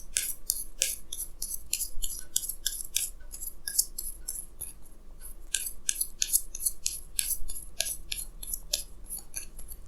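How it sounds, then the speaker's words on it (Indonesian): Crisp snapping and riffling of tarot cards being shuffled and drawn during a reading, a rapid run of sharp flicks and slaps close by that pauses briefly, then resumes at a steady, busy rhythm. "Jadi sini saya akan tarik lagi 2 kartu tambahan"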